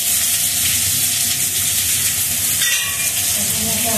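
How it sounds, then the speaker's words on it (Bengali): Onion going into hot oil in a pan with cumin seeds already fried, giving a loud continuous sizzle and hiss that stays steady throughout, with faint stirring, no talking. "জিরেটা ভাজা হয়ে গেছে, এবার পেঁয়াজটা দিচ্ছি"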